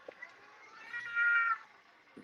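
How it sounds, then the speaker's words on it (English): A cat meows in a drawn-out, wavering call that swells and fades, heard over a quiet background with a couple of faint knocks. "Is somebody just messing with us and playing cat sounds?"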